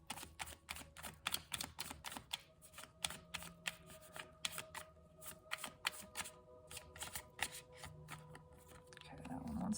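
Tarot cards shuffled by hand in a quiet room, a long run of quick crisp riffling flutters and slaps in a steady rhythm, close and clear, with a faint low voice murmuring underneath.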